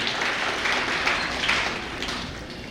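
A crowd applauds at the inauguration of the new building of Chanod Primary School, a dense, even wash of clapping that holds steady and then tapers slightly toward the end.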